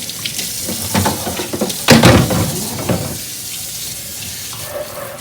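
Hot water gushes from a tap into a sink, a loud splashing burst that swells and then settles into a steady, softer stream.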